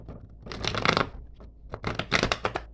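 A deck of tarot cards is shuffled by hand, close and crisp, in two quick riffling bursts of rapid flapping with a short pause between them and no talking.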